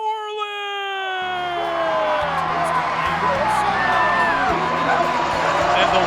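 A baseball stadium crowd at Mississippi State roars for a former World Series champion's introduction, opening with a sliding horn-like tone before a loud, sustained cheer with whoops builds and holds.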